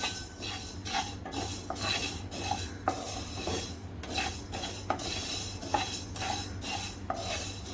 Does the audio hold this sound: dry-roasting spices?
yes